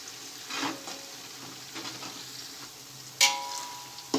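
Chopped onions fry in a pan for a Mehsana-style dungaliyu dish, giving a soft steady sizzle with occasional scraping stirs and a couple of sharper clinks of the spoon against the pan.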